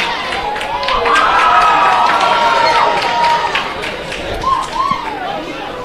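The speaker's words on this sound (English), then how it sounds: "Crowd at fever pitch here at McKellar Park." Crowd cheering at the 2018 Capital Football women's grand final at McKellar Park, Belconnen United FC v Canberra FC, a loud continuous roar of shouts and whistles swelling and easing.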